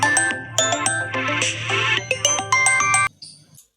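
A telephone ringtone plays loudly and clearly in a home as a call is placed, a melodic electronic ring repeating for about three seconds before cutting off, with no talking over it.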